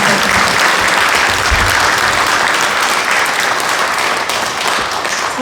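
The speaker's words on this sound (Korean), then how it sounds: "다시 한번 응원과 격려의 박수 부탁드립니다." A congregation applauds during a Sunday Won Buddhist service at Wonnam temple: a loud, dense, continuous clapping from many people in the hall, holding steady to the end.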